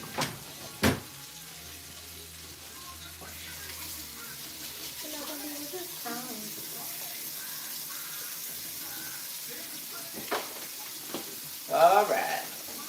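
Steak frying in butter in a pan gives a steady low sizzle across the whole stretch, broken by a few sharp knocks and clatters near the start and near the end, with a short murmur of voice toward the end.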